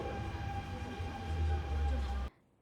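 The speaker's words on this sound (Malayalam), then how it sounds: "അപ്പം നമ്മുടെ മെട്രോ എത്തിയിട്ടുണ്ട് കേട്ടോ." A Dubai Metro train pulls into the station at night, with a loud steady rumble and hum, a sustained tone above it and a voice faintly underneath, cutting off abruptly near the end.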